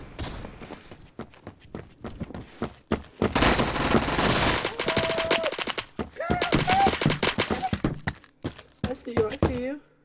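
Gunfire from a gun in Roblox Phantom Forces comes in loud rapid bursts, a dense volley in the middle followed by more scattered shots, between quieter stretches of movement and game noise.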